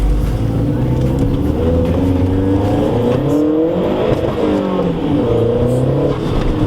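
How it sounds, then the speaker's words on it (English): Mazdaspeed 3 engine revved hard in first gear with the wheels spinning, a loud sustained roar rising and falling in pitch for several seconds, continuous and close. "I'm just going to give it a good first gear rip."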